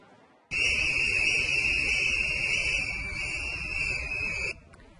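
A loud, sustained shrill whistle blast with a steady high tone and a slight waver, lasting about four seconds before cutting off abruptly.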